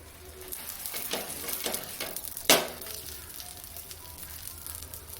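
Pav roasting in oil on a hot griddle for sev pav, a steady sizzle and crackle with a few louder scraping bursts and one sharp clatter midway.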